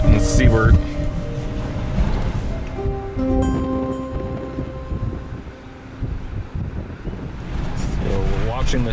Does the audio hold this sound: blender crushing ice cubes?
no